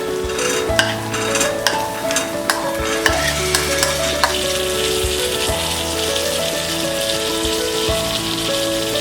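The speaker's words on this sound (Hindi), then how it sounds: "अब हम इसमें डालेंगे ये बॉइल्ड स्प्राउट्स, ये चना," Boiled moong sprouts and chickpeas are stirred into frying masala for a sprouts curry, giving a steady close sizzle with repeated sharp spoon scrapes and clinks against the pan.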